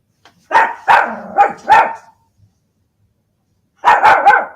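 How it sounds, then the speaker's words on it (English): A dog barks four times in a quick burst, then falls silent before three more sharp barks; loud and close. "What are you barking at?"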